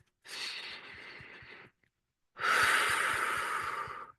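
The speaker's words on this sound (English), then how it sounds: "let's breathe it out with 6 big breaths" Two long, deep breaths are pushed out slowly during a guided breathing exercise, each a soft, airy exhale, close and alone with a short pause between them.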